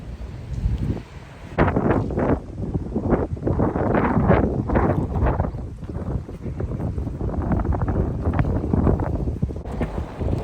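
Wind buffeting the microphone on a city walk around Elizabeth Quay in Perth, a steady loud rumbling roar with gusty swells, continuous throughout.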